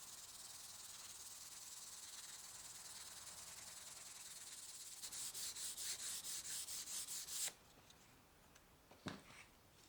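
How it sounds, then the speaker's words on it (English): Steady, quiet rubbing hiss of 320-grit sandpaper worked by hand on a wooden guitar neck, shifting midway to rhythmic back-and-forth strokes, then stopping with a few faint scrapes. "I'm going to follow up with some hand sanding with 320"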